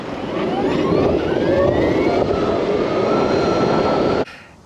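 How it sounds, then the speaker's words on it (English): A BMW CE 04 electric motorcycle accelerates hard, its rising electric whine sweeping upward over a steady rushing roar of wind and road noise that cuts off abruptly near the end, with no speech. "When you open the throttle on this from the lights, it just takes off like a rocket."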